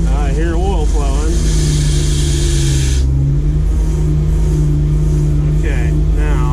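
A Ford F700 salt spreader truck's engine runs steadily at about 1300 RPM, a loud continuous low hum with a steady drone, while people talk over it in the first seconds.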